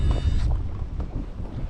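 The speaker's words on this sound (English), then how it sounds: "The wind is coming from the complete opposite direction." A west wind blows across a lake around a fishing kayak, a loud low buffeting rush against the microphone, steady and close, with no talking.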